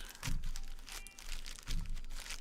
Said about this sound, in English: Do a little pack shuffle here.